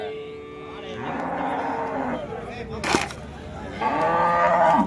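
Cattle bred for meat export moo at a cattle market: two long, loud bellows near the start and end, with a short sharp knock between them over a constant crowd murmur.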